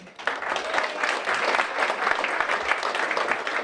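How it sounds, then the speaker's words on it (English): A warm round of applause for Simon from the audience at an MIT Press evening event in a Los Angeles museum, steady dense clapping swelling quickly and holding loud throughout. "let's give a warm round of applause for Simon"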